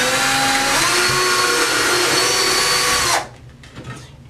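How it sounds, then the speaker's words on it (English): A power drill whines loudly and steadily for about three seconds while drilling a pilot hole into a wall, then cuts off, leaving faint scraping and handling sounds. "I'm going to drill a pilot hole."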